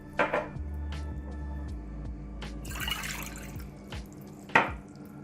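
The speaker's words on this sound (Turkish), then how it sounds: "Öncelikle karıştırma kabıma 2 su bardağı ılık suyumu alıyorum." Two glasses of warm water are poured into a mixing bowl in a kitchen: a brief splashing pour with scattered drips and light clinks of dishes, faint and close.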